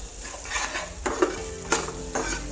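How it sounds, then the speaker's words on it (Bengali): Chopped onions frying in the same hot oil used earlier for koi fish, a close steady sizzle broken by several sharp scrapes and stirs of a utensil against the pan, with no voices. "একই তেলের মধ্যে আমি পেঁয়াজ কুচি দিয়ে দিয়েছি। পেঁয়াজ কুচিগুলো একটু লালচে বাদামি করে ভেজে নিব।"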